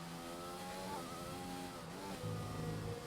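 A Williams racing car in a racing video game, short-shifting with an unhealthy, struggling engine, drones with a steady harmonic tone that steps down and up between gears over about three seconds, loud and close.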